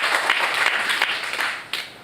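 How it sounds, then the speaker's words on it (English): An audience at an expo panel session applauding a guest named Rashid, dense clapping throughout at moderate loudness with a few sharper individual claps standing out. "Round of applause for Rashid."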